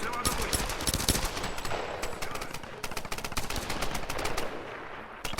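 Rapid automatic gunfire in the Tomb Raider video game, with dense, sharp bursts rattling almost continuously and loudly from start to finish.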